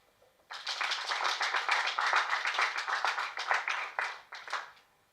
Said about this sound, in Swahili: Please, makofi for everybody again.